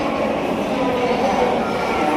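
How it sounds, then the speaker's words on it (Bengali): Rail noise at Jaipur railway station, a steady rumble of a train with a continuous broad hum and no distinct clacks, at moderate level throughout. "আমি শ্যাম সুন্দর এখন রয়েছি জয়পুর রেলওয়ে স্টেশন।"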